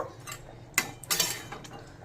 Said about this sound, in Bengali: খুন্তি দিয়ে একটু মিশিয়ে নেব।